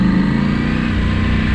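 Dirt bike engine droning loud and steady while riding through a sandy wash, a continuous mid-pitched roar with no talk.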